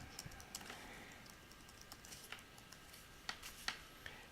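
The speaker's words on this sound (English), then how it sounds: "And I'll just type." Quiet, irregular tapping of fingers on a computer keyboard, a short run of soft keystrokes with a few sharper clacks, heard alone and close.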